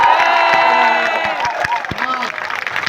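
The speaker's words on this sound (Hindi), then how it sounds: "तो एक बार आप ताली बजा के बताओ" An audience at a motivational exam-preparation talk breaks into clapping and cheering, a dense crowd roar with scattered claps and shouts that stays loud for a few seconds, then thins slightly.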